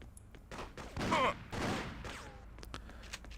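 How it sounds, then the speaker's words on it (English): A shotgun firing in the video game Freedom Fighters, heavy booming blasts with a rough rumbling tail over a steady game background hum, followed by a few sharper clicks and clacks. "Shotgun."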